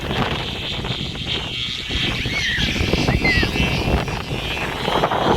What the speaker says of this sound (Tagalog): Grabe yung hangin, mga idol.